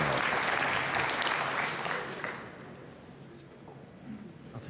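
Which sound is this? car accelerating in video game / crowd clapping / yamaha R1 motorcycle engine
crowd clapping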